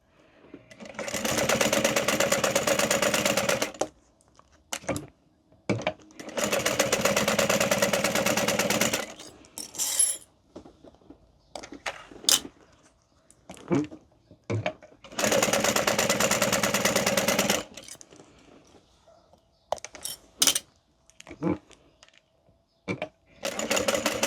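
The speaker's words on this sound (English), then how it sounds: "we are going to top stitch these" A sewing machine top stitches a modified Erica Bowler bag, running in four long steady bursts of a few seconds each, separated by short pauses filled with clicks and handling knocks.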